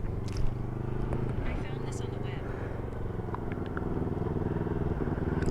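A coworker rides a motorcycle during a beginner lesson, its engine a steady close rumble running throughout with a slight rise near the start, while people talk over it.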